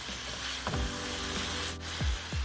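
Beef strips fry in a pan with a steady hiss and crackle, broken by a few soft knocks from stirring utensils. No one speaks.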